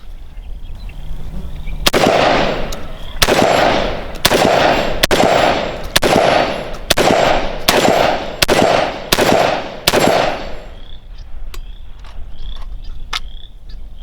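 Kalashnikov USA KS-12T semi-automatic shotgun firing 1 1/8 ounce loads: nine loud, sharp shots in a quick, fairly even string, each ringing briefly, followed by quieter clatter and faint clicks as the action settles, with no talking.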